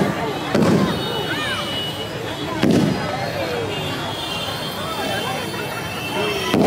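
Firecrackers at a ship-themed Ganesh Chaturthi pandal in Kalibadi, Raipur, burst in two sharp, fairly near cracks a couple of seconds apart over a continuous crowd murmur with voices.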